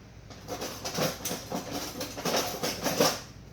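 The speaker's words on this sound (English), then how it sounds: "the banging of the knife." A kitchen knife blade is struck repeatedly against an avocado, producing a string of close, dull knocks at a fairly regular rhythm over a soft background hiss.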